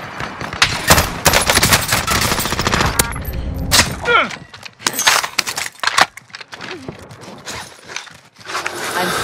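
Rapid automatic gunfire in the Call of Duty Rebirth Island battle royale rattles in dense, close bursts, with sharp single shots and clattering breaks between, while players talk over the shooting.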